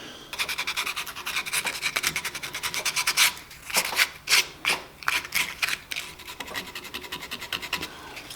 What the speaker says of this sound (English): I think I'm going to sand the whole thing